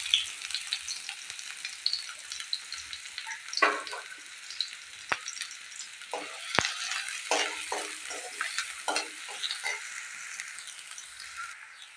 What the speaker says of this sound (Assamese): পিঁয়াজখিনি মই 1 মিনিট সময় ভালদৰে ভাজি ল'লোঁ।